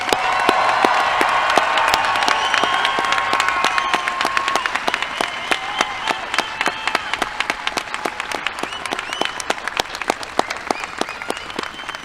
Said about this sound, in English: give the graduating class of 2023 a big round of applause